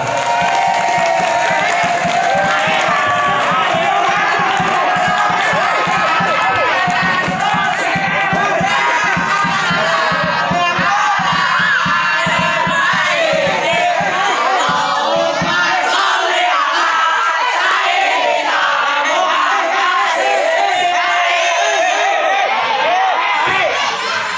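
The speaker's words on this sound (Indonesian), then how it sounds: "Berikan tepuk tangan untuk peserta pertama kita." A loud crowd cheers, whoops and applauds for the first contestants at a duet speech competition held at an Islamic boarding school, a dense sustained roar that thins slightly toward the end.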